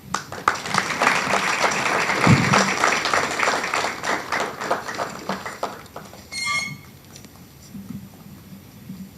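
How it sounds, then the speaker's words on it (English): A business breakfast-meeting audience gives a round of applause, a dense patter of many hands that tapers off after about six seconds into a quiet room with a brief murmur. "I'm sure he deserves a bigger round of applause than that."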